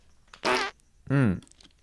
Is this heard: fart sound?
yes